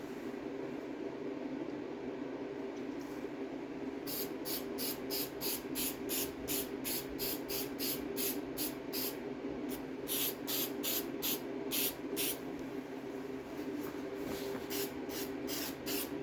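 Spray adhesive hissing from a can onto a Triumph TR6 seat during reupholstery, in a long run of short bursts after a quiet start, with steady background hum throughout.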